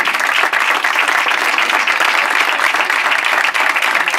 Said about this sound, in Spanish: Así que le damos un aplauso a Alberto.